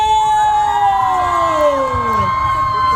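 A concert crowd at a charity event cheers loudly and continuously, with shrill, sweeping fan screams layered over clapping and general crowd roar.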